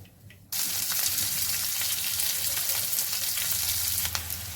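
Whole spices (cinnamon stick, cloves and star anise) hit two spoons of hot oil for egg biryani. A loud, steady sizzle bursts in after a short quiet moment and crackles on close by without pause.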